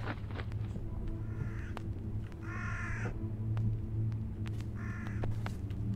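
Crows in the horror game Jisatsu give harsh caws in short repeated bursts over a low droning rumble, fairly close and clear with no talking.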